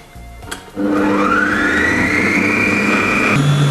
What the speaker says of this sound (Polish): uruchamiamy mikser i będziemy miksować na najwyższych obrotach, aż powstanie z tego gęsta masa jajeczna